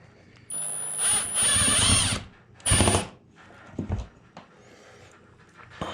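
A power drill drives drywall screws into drywall in two close, loud bursts of whirring, followed by softer handling knocks and a quiet room.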